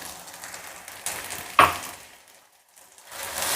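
Ground tomatoes added to onions frying with ginger-garlic paste, a sudden loud sizzling hiss that swells as they hit the pan and then fades to near quiet before a softer sizzle returns.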